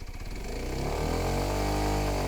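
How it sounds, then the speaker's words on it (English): A motorcycle engine pulls steadily at low speed as the bike rides up and over a curb without stalling, its revs rising and holding in a close, continuous mechanical drone. "you can get over a curb without stalling the bike"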